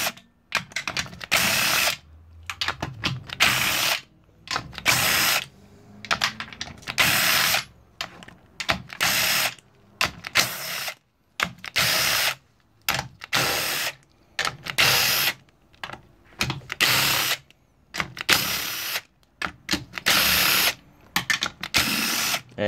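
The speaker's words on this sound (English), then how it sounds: "We're gonna go ahead and break loose all 16 of the 12 millimeter bolts" Power tool loosening sixteen 12 mm bolts around a B series transmission casing: repeated short whirring bursts in a steady stop-start pattern, close and loud, separated by brief pauses.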